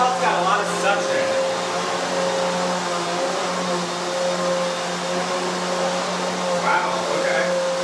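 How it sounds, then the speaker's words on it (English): A Hoover HushTone 15 commercial vacuum cleaner runs at full suction, giving a steady, loud whirring drone with a constant hum that holds for the whole stretch. "It's definitely pulling, it's like, I mean, you can tell it's got a lot of suction."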